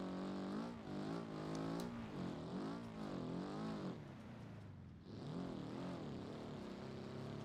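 A video game car engine revving in a hot-lapping session, a loud, rough, steady drone with rising and falling pitch swings, dipping briefly before picking back up, heard alone without talk.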